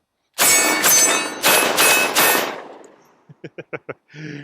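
A semi-auto shotgun loaded with full-power buckshot fires five loud, rapid blasts at a 3/8-inch steel target downrange, each with a booming tail. Short sharp metallic clacks from the action follow, then a brief ringing hum.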